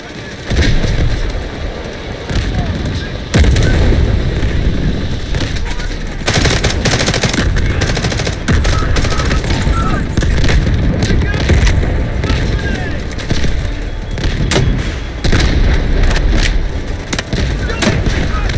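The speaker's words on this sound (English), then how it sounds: "artillery cover coming" Artillery fire and gunfire in the multiplayer video game Delta Force: loud, dense machine-gun bursts and heavy booms overlapping almost continuously, with voices in the mix.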